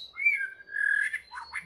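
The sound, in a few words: murai (long-tailed magpie-robin) bird calling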